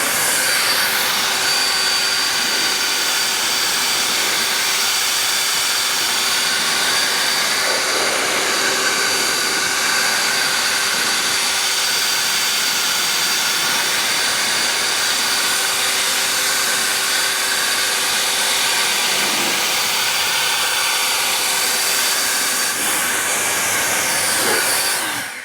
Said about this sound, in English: I'm going to go get my blower and I'm going to blow it off